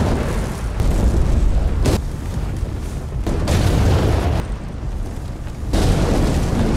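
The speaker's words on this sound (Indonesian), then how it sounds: "Dan mobil itu meledak." Heavy, rumbling blasts of a car exploding from a remote bomb roll on continuously, loud and booming, with repeated surges like one explosion after another.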